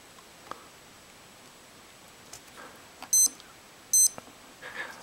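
Two short, sharp electronic beeps from a Timex Expedition digital watch as its timer is set, about a second apart, close and clear over faint rustling.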